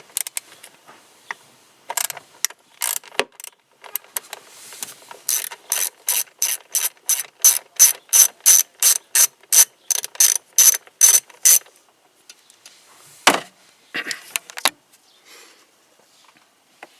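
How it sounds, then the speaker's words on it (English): A ratchet backs out the coil screw during a spark plug change on a Ford F150 with the 5.4 engine, giving a close run of sharp, evenly spaced clicks between scattered clinks and tool handling, no voices. "Let's take the screw out, put that off to the side."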